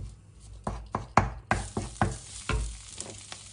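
A heaping tablespoon of coarse red curry paste is stir-fried in oil, with a rhythmic series of close spatula knocks and scrapes against the pan over a soft background sizzle, no talking.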